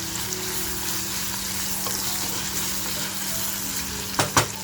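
Onions frying with salt in a pan for a green-masala mutton curry, a steady continuous sizzle with a couple of brief stirring clatters near the end.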